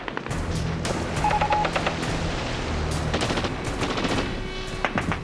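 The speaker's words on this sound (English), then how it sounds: "Exposed to enemy fire, hundreds of Marines are cut down by machine guns" Machine gun fire in a World War 2 Pacific documentary, with rapid bursts of gunshots and heavier booms repeating over a dense battle din, loud and close, without talk.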